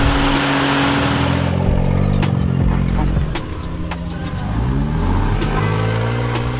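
Engines of Japanese 4x4 rock crawling vehicles at an off-road competition rev and drone loudly and continuously, with pitch rising and falling as throttle changes and sharp clicks and clanks throughout.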